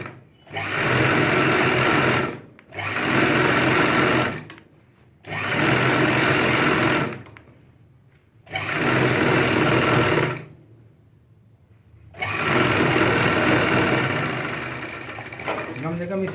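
A sewing machine stitches the leg of a ladies' pant in four loud, steady runs of about two seconds each, separated by brief pauses, then a longer final run.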